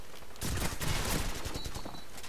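Rapid bursts of automatic gunfire from the video game Call of Duty 4, a dense rattling volley starting abruptly and continuing loud and close for nearly two seconds.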